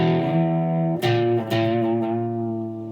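A distorted electric guitar with its reverb switched off plays a riff, giving sustained chugging notes with two sharp picked attacks partway through, loud and close and with no talking.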